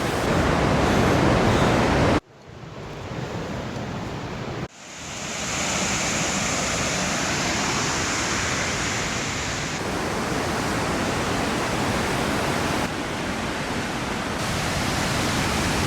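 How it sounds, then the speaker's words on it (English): Vernal Falls in Yosemite National Park roars in a steady, loud, broadband rush with brief drops in level, constant throughout and with no voices. "We're now at the top of Vernal Falls"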